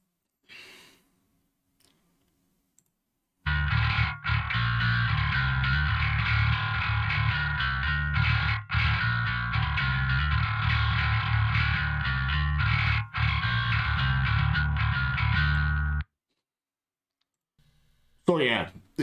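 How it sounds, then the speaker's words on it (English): Metal bass guitar played through a Neural DSP Fortin Cali amp simulator, a loud, dense, distorted low-end riff running steadily for about twelve seconds with brief gaps, then stopping abruptly. "So let me let you hear how the bass sounds."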